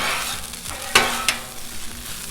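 Food sizzling on a hot Blackstone flat-top griddle while being tossed with a spatula, a steady fry hiss broken by two sharp scraping clacks of metal on the griddle surface.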